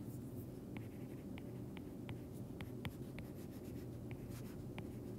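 A pen or marker scratches out a formula by hand during a moment of inertia lab. Faint, short, irregular strokes tick and scrape against a steady background hum, with no voices.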